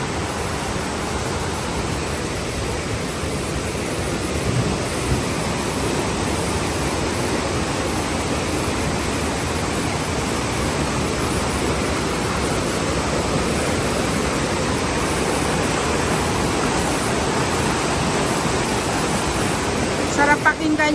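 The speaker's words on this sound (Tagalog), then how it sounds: "Ang lakas ng agos ng tubig." Strong current of a rushing river and waterfall in Baco, Oriental Mindoro, a dense, steady roar of water that stays loud and unbroken throughout.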